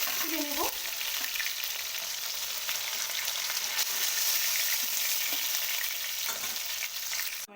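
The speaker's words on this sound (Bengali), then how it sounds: "মাছ ভাজার ওই তেলেই আমি এবার পটলগুলো কেটে রাখা 2 টুকরো করে কেটে রাখা পটলগুলো ভাজতে দিয়ে দিলাম" Halved pointed gourd pieces fry in oil left over from frying fish, giving a continuous loud sizzle with occasional stirring clatters and a brief utensil scrape at the start.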